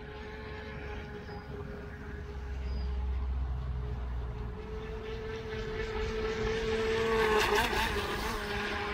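An HJ806 35 kph RC speedboat with a small electric motor runs on open water, giving a steady high-pitched whine that swells and grows louder as the boat passes closer.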